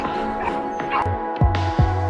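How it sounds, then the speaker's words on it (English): Small dog barking while defending its owner from a predator, several sharp high yips and barks in quick succession, close and loud over background music. "the tiny dog bravely defended its owner from the predator."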